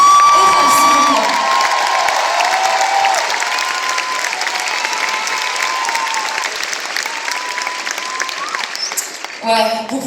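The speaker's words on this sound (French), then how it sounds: "vous pouvez les applaudir" A concert audience at the Olympia applauds the singer's musicians with loud, dense clapping and cheering that fades gradually over several seconds. Scattered whoops and shouts rise from the crowd, and a voice speaks near the end.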